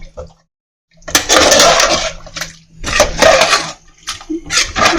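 Water is poured into a cooking pot for Tamil Nadu-style mutton biryani, with splashing bursts that start and stop several times and a voice talking over them.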